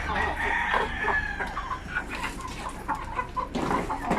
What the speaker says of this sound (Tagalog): Pero ito talaga is Sampi native chicken